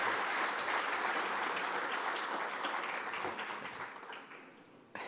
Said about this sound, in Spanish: agradecemos por favor con un fuerte aplauso a María Carolina Vargas.